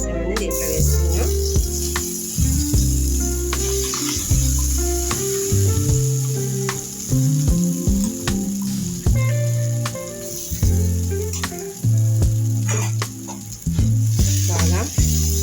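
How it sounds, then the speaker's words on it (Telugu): A ground spice mixture for drumstick-leaf chutney hits a hot pan with black cumin, giving a loud, continuous sizzle with stirring scrapes throughout, under steady background music. "ఇప్పుడు గ్రైండ్ చేసి పెట్టుకున్న ఈ మిశ్రమాన్ని దీంట్లో వేసుకున్నాం."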